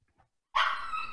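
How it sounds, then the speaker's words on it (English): A dog lets out a single sharp, loud bark after a near-silent moment, its yelping tone ringing briefly before fading. "the dog's pretty crazy"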